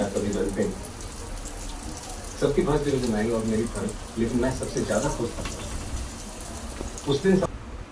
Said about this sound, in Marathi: आता इथे मी एक एक मच्छी तव्यावरती ठेवून देते फ्राय करण्यासाठी